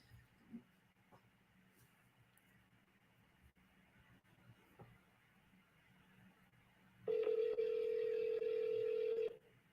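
Telephone keypad dialing phone numbers, with faint beeps and a quiet room at first, then a loud sustained tone for the final few seconds.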